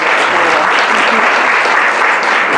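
Loud, dense audience applause at a 2023 Jus in Bello conference panel, a steady roar of many hands clapping close and continuous for the full stretch.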